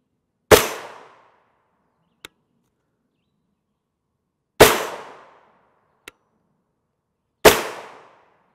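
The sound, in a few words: gunshots fired at soft body armor test panel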